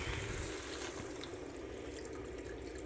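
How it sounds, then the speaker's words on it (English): Water pours steadily into a cooking pot for split pea soup on a stovetop, a continuous close splashing rush with no pauses and no talk. "now we're gonna add our water"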